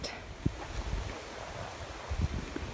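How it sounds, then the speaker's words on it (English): Steady wind after a cold, stormy night blows in the background as a faint, broadband rush with low microphone rumble and a few soft bumps, no talking. "You can possibly still hear the wind."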